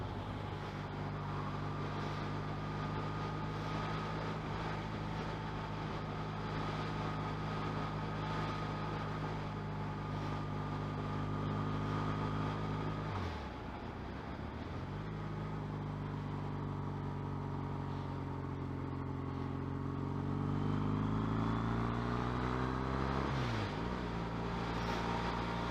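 A motorcycle engine drones steadily while riding, its harmonic hum rising and falling with throttle and gear changes, with a dip midway and a climbing whine near the end, heard close and continuous under wind.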